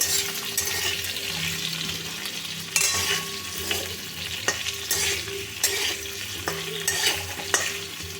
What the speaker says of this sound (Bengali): এগুলো সব একসাথে মিশিয়ে আবার একটু ভেজে নেব